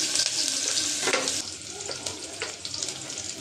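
Chopped onion frying in hot oil for a cauliflower and small-shrimp dish, a steady close sizzle with soft stirring scrapes and a few louder crackles, no talk.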